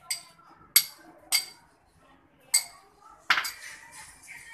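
A utensil knocks and clinks against a bowl while tutti frutti is mixed into tea cake batter, five separate sharp strikes spaced unevenly with quiet between, the last followed by a short scraping rattle.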